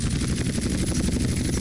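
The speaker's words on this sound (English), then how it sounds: "Going straight, firing the guns." Aircraft-mounted machine guns in GTA San Andreas fire in a rapid, evenly pulsing stream, loud and steady over a low engine drone.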